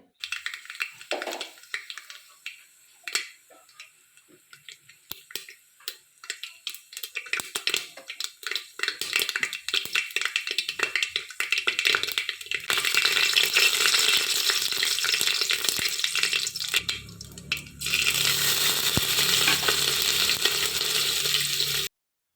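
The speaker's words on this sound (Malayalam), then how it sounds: "കുക്കറിൽ വെളിച്ചെണ്ണ ഒഴിച്ചു കടുകിട്ട് പൊട്ടിക്കുവാണേ" Mustard seeds crackle in hot coconut oil in a pressure cooker: scattered sharp pops that grow into a dense, continuous loud crackling and spitting, close by.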